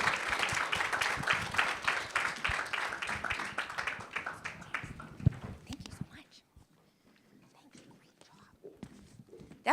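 An audience at a symposium panel on AI in education applauds for the panelists, steady clapping that fades out over several seconds into quiet room noise with scattered claps.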